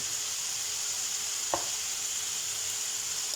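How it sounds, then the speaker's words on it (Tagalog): Vegetables seasoned with ground black pepper stirred in a pan, a faint steady sizzle with one brief utensil tap against the pan, quiet and close without talking. "At halu-haluin lang po natin siya guys."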